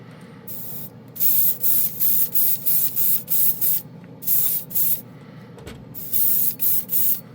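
Repeated short bursts of airbrush spraying color shift paint onto a skull, a bright steady hiss switching on and off in quick pulses, close by with no talking.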